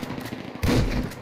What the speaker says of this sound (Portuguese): Muito tiro.